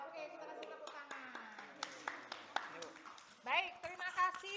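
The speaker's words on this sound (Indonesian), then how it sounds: "kita kasih tepuk tangan" Scattered, uneven hand clapping from a classroom of students after a group presentation, sparse sharp claps running under steady talking voices for a few seconds.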